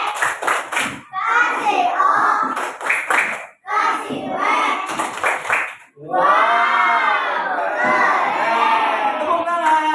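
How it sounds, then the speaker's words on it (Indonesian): Primary school children in a classroom burst into rhythmic clapping and loud shouting during a fractions lesson, with bursts of group clapping between chanted calls, ending in a long, loud stretch of excited voices and claps. "Kasih tepuk wow buat semuanya."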